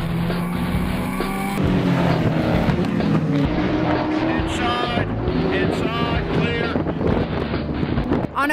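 Porsche Cayman race car engines roar past at New Jersey Motorsports Park on a windy day, with strong wind noise on the microphone, loud and continuous, with a voice talking over them.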